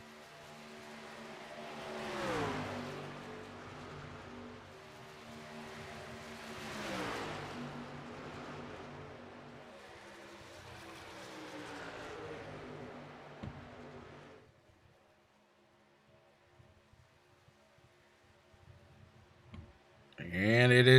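NSRL ONE3 Speed Truck Series race trucks on a track, engines swelling loudly in repeated passes and then fading to near quiet, with a burst of noise at the end.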